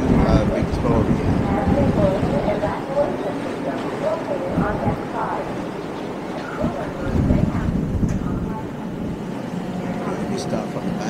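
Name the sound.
BC ferry from Vancouver to Victoria, wind on deck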